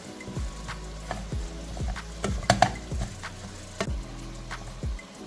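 Steady scraping and tapping of a spoon mixing a fish marinade of turmeric, ground pepper and grated shallots in a bowl for a Kerala-style river fish curry, repeating in an even rhythm, close and fairly quiet.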